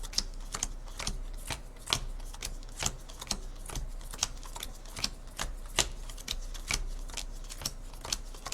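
A deck of Marvel Champions cards is shuffled by hand, giving a steady run of quick, crisp riffling clicks up close, evenly paced and uninterrupted, with no talking.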